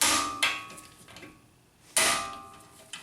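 A tool struck to loosen front brake bolts on a 2004 Honda Accord: two sharp metallic strikes with ringing decay, plus a lighter knock, close and loud with no talk.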